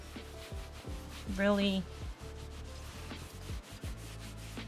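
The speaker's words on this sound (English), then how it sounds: "So now we're gonna use the microfiber towel and just" A microfiber towel rubs oil into a wooden charcuterie board in steady, close scraping strokes, with a brief spoken word partway through.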